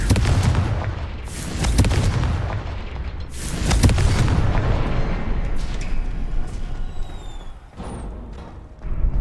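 In the Hogwarts Legacy video game, the Confringo explosive spell goes off in heavy, rumbling booms and blasts, loud and repeated, with crackling debris tailing off between bursts.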